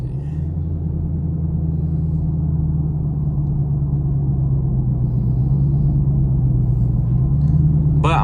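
Steady low engine drone and road rumble inside a Chevrolet Camaro SS cruising on the highway, constant and close, with slight swells in engine note near the end.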